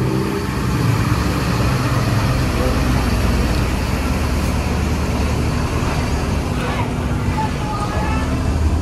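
A Mercedes-Benz 1623 bus with a front-mounted engine runs steadily, giving a loud, continuous low diesel drone mixed with roadway noise at close range.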